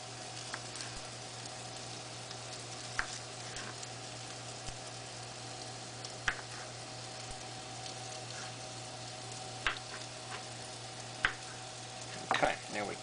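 Onion with squash and zucchini sautéing in a pan, a constant quiet sizzle broken by occasional scraping and tapping as a utensil stirs the vegetables, close but soft.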